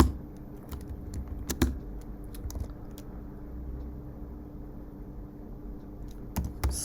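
Computer keyboard typing while code is written, with scattered sharp key clicks that come in short bursts and pauses over a low steady room hum, close and moderately quiet, no voices.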